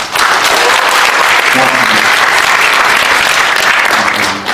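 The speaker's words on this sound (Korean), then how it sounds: "박수 한번 쳐주십시오" A large audience applauds steadily for young doctors from a medical association at a political economic concert event in Korea, the clapping loud and sustained throughout with no voices over it.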